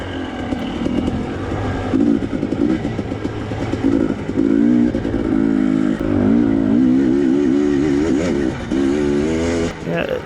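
A Husqvarna TE250i dirt bike is ridden on a single-track trail in Colorado, its loud close engine revving and shifting pitch repeatedly as the rider accelerates and backs off.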